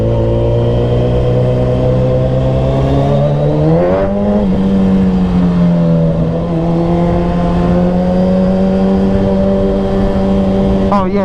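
Suzuki Hayabusa motorcycle accelerating at high speed on a freeway, a loud sustained engine drone rising in pitch, briefly dipping around a shift, then holding steady with wind rush and no voices.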